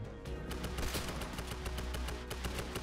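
Rapid, dense gunfire from the Fortnite battle royale game, bursts of shots rattling continuously and loudly throughout with no pauses, like automatic weapons firing close by.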